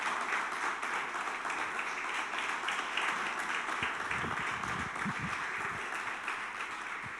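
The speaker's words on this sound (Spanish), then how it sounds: "¿Por qué no le das un aplauso al Señor?" Church congregation applauding together, a steady wash of clapping hands filling the room for the whole stretch, fairly loud and continuous with no talk over it.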